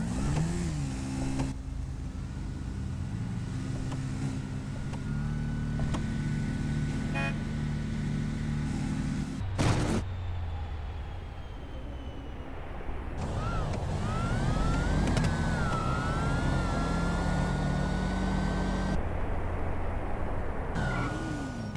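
Two no-prep drag race cars, Hellfire and Imperator, roar down the track side by side, engines whining and rising in pitch as they accelerate, with a loud continuous rumble and a sharp burst partway through.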